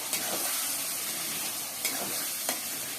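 Chicken marinade being stirred in a hot pan, giving a steady sizzle with a few brief scraping strokes near the start, middle and end, close and moderately loud with no voices.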